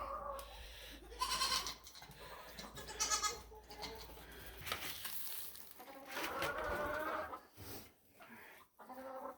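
Goats bleating inside a homestead barn near a chicken coop, repeated loud nasal calls from several animals overlapping, with chickens clucking in the background.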